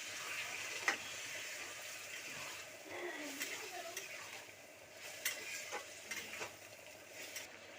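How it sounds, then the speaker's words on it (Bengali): Mushrooms (khor chhatu) and potatoes sizzle in a pan after a little water is added, a steady hiss with soft stirring clicks and scrapes, fairly quiet and close. "অল্প একটু জল দিয়ে দেবো।"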